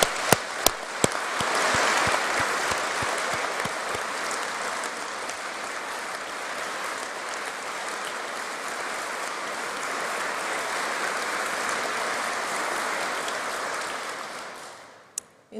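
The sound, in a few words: graduation ceremony audience applause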